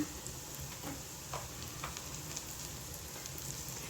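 Turmeric, red chilli powder and garam masala frying in oil with onion, a faint steady sizzle with light crackles and occasional soft stirring ticks, low in level and uninterrupted.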